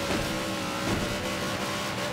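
A car in the racing game Forza Horizon 3 revs hard on a frozen lake course, with a loud, sustained engine roar that holds a high buzzing pitch without letting up.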